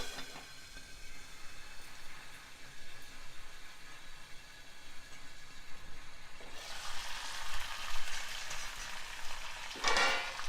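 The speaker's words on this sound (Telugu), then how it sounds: "శనగపప్పు, మినప్పప్పు వేగనివ్వాలి." Chana dal, urad dal and chopped fenugreek leaves fry in a pan with a steady, soft sizzle that swells louder in the second half, with occasional stirring scrapes and a brief loud burst near the end.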